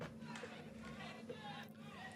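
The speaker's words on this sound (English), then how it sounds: "the loop we had in the very beginning of the track with the crowd in the background" A faint looped crowd murmur with scattered cheers sits in the background of a dance pop track, steady and distant beneath a low sustained tone.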